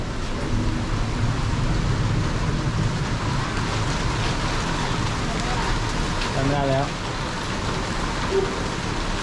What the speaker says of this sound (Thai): เปียกแล้ว ฝนตก เรามาฝนตกแล้ว